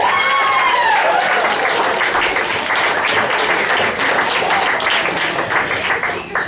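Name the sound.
audience applause for Mary Jane Watson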